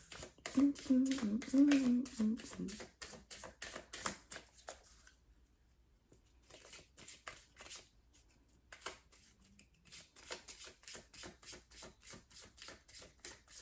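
Tarot cards shuffled in quick, crisp bursts of riffling clicks, pausing briefly before resuming, with a voice speaking at the start.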